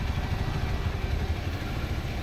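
Motorcycle jolting and clattering over a broken, rough road at a provincial boundary, a dense, steady rattle and rumble of the bike and its load with no voices.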